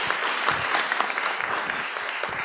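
Audience applause at a business luncheon talk on luxury retail in Montréal, a dense steady clatter of many hands clapping together, sustained and fairly close throughout, with no voices on top.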